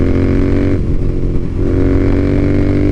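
A Royal Enfield Interceptor 650 motorcycle rides hard through twisty corners, its engine note loud and close, easing off briefly mid-way before rising and revving again with no talk.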